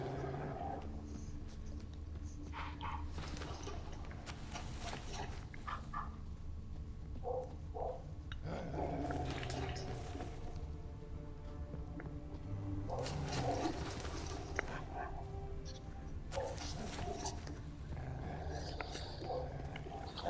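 Distant dogs bark in scattered bursts across a wide outdoor world in The Witcher 3: Wild Hunt, the barks faint and far off over a low ambient wind and rustling bed, with occasional other animal and hoof-like sounds.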